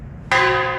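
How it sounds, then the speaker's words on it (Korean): A gong struck once during a hearing test, a sudden loud metallic clang after a short quiet moment, then a sustained ringing tone with rich overtones. "징소리"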